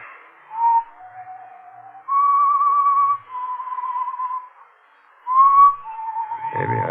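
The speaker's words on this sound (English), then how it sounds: "But I heard that whistling again. That same tune." A lone person whistles a slow, eerie tune of held and wavering notes in a radio drama, clear and close against silence, ending with a brief rustling noise.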